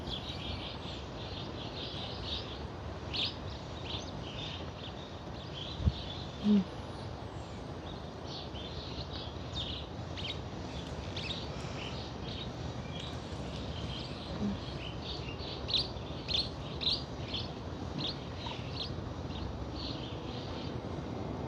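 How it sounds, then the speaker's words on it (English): Faint birds chirp outdoors in quick, scattered calls, steady and distant beneath an even wash of background hiss. "And do you hear the birds chirping, guys?"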